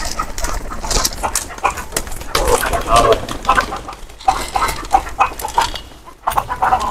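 A weak, ailing rooster clucks in short, irregular bursts at close range, with farmyard bustle and a voice now and then in the background.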